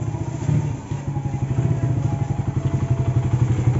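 A Suzuki Satria FU motorcycle engine runs after a service with a fast, even, pulsing beat, close and steady for a few seconds.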